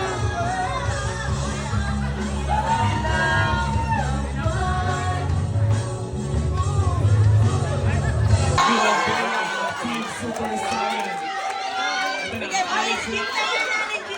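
Crowd at a sportsfest after party chatters and shouts together over loud, pounding music that cuts out partway, leaving the raised voices and cheering more exposed.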